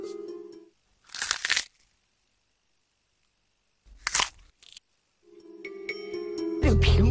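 Foley crunching made to imitate biting into an apple: two separate loud crunchy bites with silence between them, then a long rustling, scraping stretch that ends in a harsh burst.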